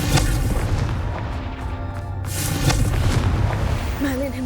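A Confringo spell explosion in the video game Hogwarts Legacy, a loud sustained boom with rumbling low end that swells again midway, with game ambience beneath.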